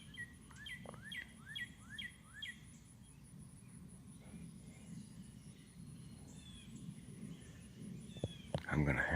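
Small black and white birds sing in a quick run of bright chirps early on, then fainter calls over a steady low outdoor rumble, with a louder knock near the end.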